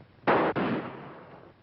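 Two sharp, loud gunshots crack in quick succession during a shootout in a 1949 western film, the second followed by a reverberant tail that fades over about a second, with no voices.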